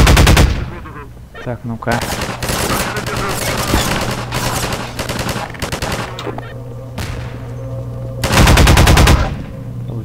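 Half-Life 2 gunfire during a firefight: loud, dense bursts of automatic weapon fire and single shots, nearly continuous and close, with someone briefly speaking in Russian over it.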